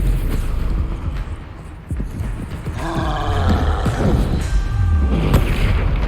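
Bombarda spell blasts in Hogwarts Legacy, deep booming explosions with rumbling and debris-like crackle, loud and continuous amid game combat noise, no talk audible.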